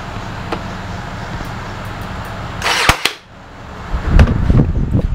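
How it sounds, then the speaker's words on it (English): A staple gun fires once with a sharp snap while a DIY rolling laundry organizer is being built. Faint background noise surrounds the shot, followed by some rustling and handling sounds. "Now you need to shoot a staple"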